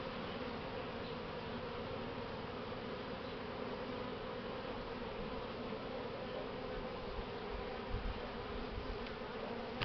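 Honey bees buzz steadily around open hive frames during the splitting of a swarmed colony into nucleus hives, a dense, continuous close hum with no talking.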